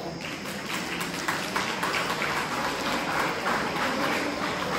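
Applause fills a college auditorium during a Tamil debate event as an audience welcomes a chemistry department speaker, a steady, dense patter of clapping from many hands throughout.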